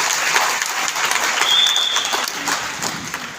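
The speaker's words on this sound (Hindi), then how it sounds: "उनके लिए एक बार जोरदार तालियां हो जाती है।" An audience in a hall at a company income-plan event claps loudly, a lively round of applause that swells and dips over about three seconds and then tapers off, with no speech on top.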